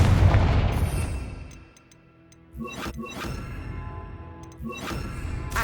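Fiery Confringo spell blasts in the Hogwarts Legacy video game: a loud, rumbling burst fades out, then two sharp booming impacts follow, with chiming game effects ringing between them.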